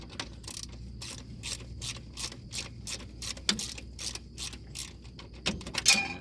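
A hand ratchet clicks in quick bursts while turning a bolt on a 1983 Chevy K5, crisp close ticks in uneven runs with short pauses and one heavier clunk near the end.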